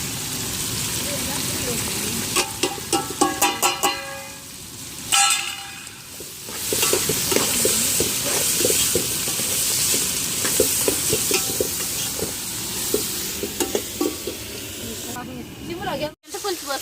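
Food frying in a pan with turmeric and salt, stirred now and then: a continuous sizzling hiss with clattering scrapes and knocks, under voices talking nearby.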